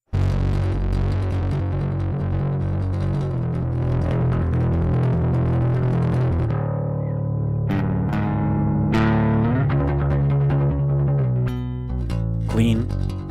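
Heavily distorted, fuzzy guitar chords from a fuzz distortion plugin with a high pass filter ring out thick and loud, then give way to sparser, choppier fuzzed notes and brief pauses.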